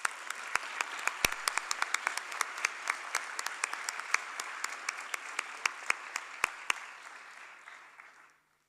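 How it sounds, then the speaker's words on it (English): Sustained audience applause at a graduation ceremony for ISL Qatar, a dense wash of many hands with sharp individual claps popping out, steady for several seconds before tapering off and fading to silence. "So please give them a huge round of applause."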